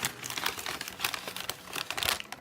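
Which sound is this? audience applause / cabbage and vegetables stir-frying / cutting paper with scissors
cutting paper with scissors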